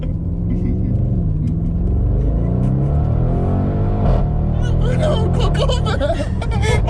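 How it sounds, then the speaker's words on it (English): Modified Audi RS6 accelerating hard, its engine rumble climbing through the revs from inside the cabin, with excited voices and laughter rising over it toward the end. "First thing you do when you get an RS6 is put your foot down."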